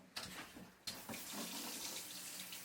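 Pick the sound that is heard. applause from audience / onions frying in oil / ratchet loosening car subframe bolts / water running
water running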